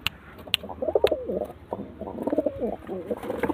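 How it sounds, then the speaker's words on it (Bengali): Domestic pigeons coo close by in a series of soft, rolling, throaty calls, several overlapping over a few seconds, with no talking. "তো চলো পায়রাগুলো ওড়াই"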